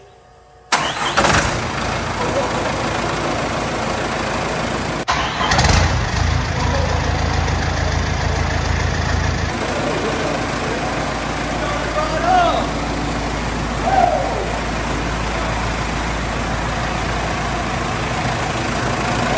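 A 4BT Cummins diesel engine fitted in a truck cranks and fires for the first time, then settles into a loud, rough, rattling idle close by, with people talking and cheering over it.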